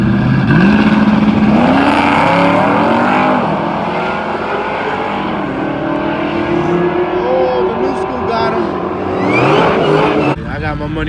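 Chevrolet Camaros, one old and one new, run on a race track, their engines revving and climbing through gears in rising whines, with tyre noise and loud voices over the cars.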